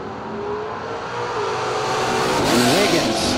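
A 1972 Datsun and an El Camino launch side by side at a drag strip, engines roaring loud and rising steadily as tires squeal, with a sharp surge of revving near the end.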